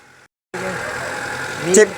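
A used car's engine idles steadily at close range, a continuous low rumble that swells slightly near the end with a brief higher squeal.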